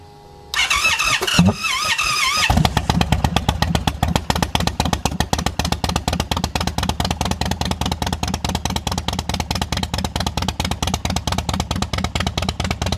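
A 2022 Indian Chief motorcycle, being rebuilt, cranks with a few uneven bursts and catches, then settles into a loud, close, steady thumping idle with a regular pulsing beat that runs to the end.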